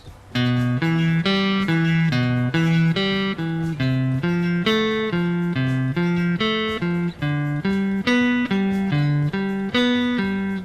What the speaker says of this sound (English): another example with those inverted triads will sound like this